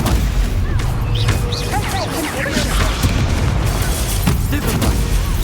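The Stupefy spell is cast in combat in the video game Hogwarts Legacy, with loud booming bursts and crackling impacts over a continuous busy bed of game effects and sound.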